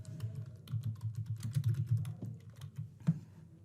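Keys on a computer keyboard are typed in a quick, steady run of soft close clicks, quiet and without talk.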